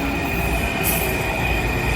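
An Amtrak overnight train travelling from DC to Stamford rolls along the rails with a loud, steady rumble and a continuous high wheel squeal, briefly joined by a sharper screech, with no talking.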